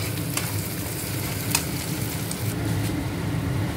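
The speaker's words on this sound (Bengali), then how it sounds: "এবারে দিয়ে দেবো হলুদ আর জিরে ধনে গুঁড়ো দিয়ে আবার ভালো করে এটা কষিয়ে নেব" Turmeric, cumin and coriander powder fry in a masala base, giving a loud, continuous close sizzle punctuated by a few sharp spatula scrapes against the pan.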